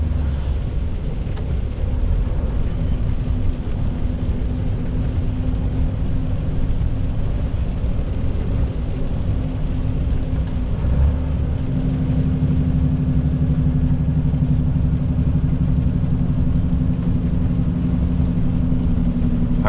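Car engine braking on a downhill road in heavy rain and cold near the Santa Catarina–Rio Grande do Sul border, a steady low engine rumble with road and rain noise that holds throughout, slightly heavier toward the end.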